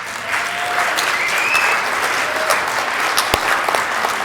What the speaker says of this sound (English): that's applause for you guys